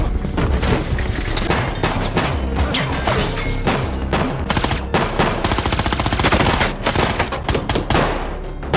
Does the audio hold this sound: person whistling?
no